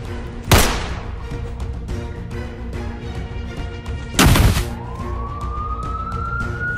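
Two loud bangs go off during a hold-up. After the second, a police car siren begins to rise and swells steadily, sounding close behind the fading echoes.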